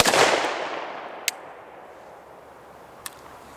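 A single sharp gunshot from a Smith & Wesson M&P 5.7 pistol on an outdoor range, loud and close, with a long fading echo and two small distant clicks or pops afterward.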